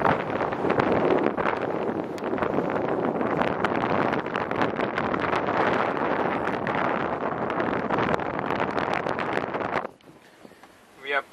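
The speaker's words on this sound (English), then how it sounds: "It's a bit windy." Strong wind gusts buffeting the microphone on a sailing boat heading north, a loud continuous roar and rustle that drops away abruptly near the end, leaving quieter water and boat sounds.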